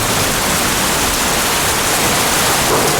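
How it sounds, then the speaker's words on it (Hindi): Heavy rain pours down in a dense, steady hiss that fills the whole space with no breaks, loud and close, with no voices over it. "बारिश, तेज बारिश।"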